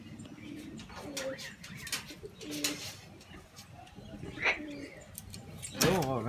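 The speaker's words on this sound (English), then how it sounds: "Here's a pink cockie. No, it's not a Major Mitchell." Pink cockatoo calling in short harsh squawks and chirps over ongoing low background noise, with a louder rasping call near the end, fairly close.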